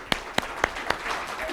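An audience at an HR management congress claps together in unison: four sharp, evenly spaced claps close by, followed by a low crowd murmur.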